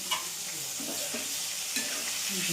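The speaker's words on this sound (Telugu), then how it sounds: "కాసేపు ఫ్రై అవుతుంది." Bitter gourd masala curry frying in a pan gives a continuous close sizzle with soft stirring scrapes, brief and steady with no voices.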